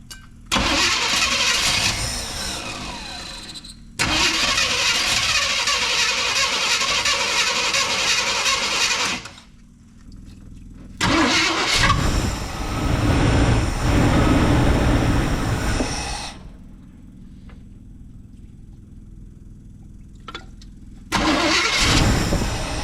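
Square-body Chevrolet C10 pickup, left abandoned, with a carburetor problem, cranking repeatedly in several long loud bursts separated by short pauses, straining to catch and start.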